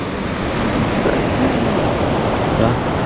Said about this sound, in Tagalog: Itong part na to, ang lakas ng tubig oh.